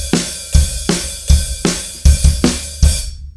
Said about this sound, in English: Or you can do it how I did it with the open hi-hat in the chorus,